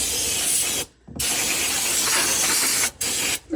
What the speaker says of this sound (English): So this is brake clean. It's just alcohol in an aerosol form.